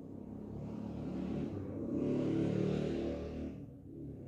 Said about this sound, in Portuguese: Tem que passar um carro gritando.